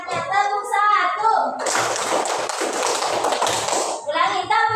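A classroom of primary school children clapping a rhythmic class clap pattern together, a dense burst of hand claps lasting a few seconds, with a teacher's voice and children's voices calling out before and after.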